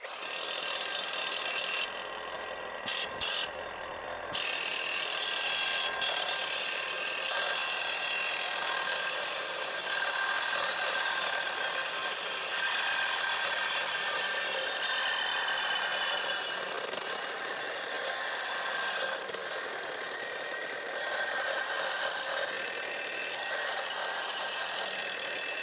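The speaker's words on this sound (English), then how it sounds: "We're going to cut a ring right through this 1/4 inch steel post." A Diablo blade cuts a ring through a 1/4 inch steel post with a continuous, harsh, grinding rasp. A couple of brief breaks come early, then it runs loud and steady to the end.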